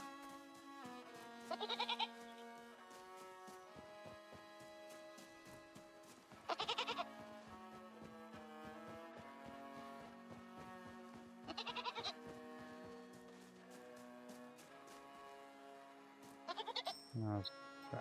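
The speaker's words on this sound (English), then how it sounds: "found the goat." A goat in the video game REKA bleats in short, nasal bursts about every five seconds, four times in all, over a constant musical background.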